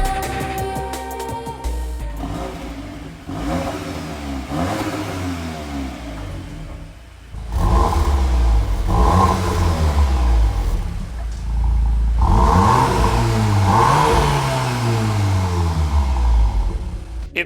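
A Mark 8 Volkswagen Golf R fitted with a new Milltek exhaust revs hard several times, each rise and fall of the engine loud and close, with the engine idling between the blips.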